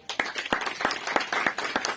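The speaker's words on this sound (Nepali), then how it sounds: "ताली बजाउनुहोस्" Church congregation clapping at a wedding service, a run of crisp irregular claps from a group of people, close and fairly loud in a reverberant room.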